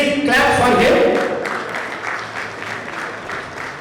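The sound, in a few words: audience applause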